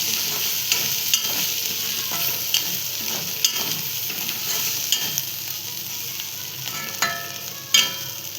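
Ivy gourd (tondli) stirred with freshly grated coconut and coriander in a hot pan: a steady close sizzle broken by repeated scraping strokes and light clicks of the spoon, with no voices.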